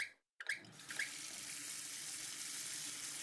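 A water faucet in the video game Paper Mario Sticker Star turns on after a short squeak and then runs in a steady, even rush of water that continues to the end.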